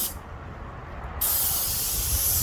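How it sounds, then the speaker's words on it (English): Airless paint sprayer applying a second coat to a house exterior, starting abruptly partway through as a loud, steady high hiss over a low ambient rumble. "He's gonna second coat this just by spraying it out."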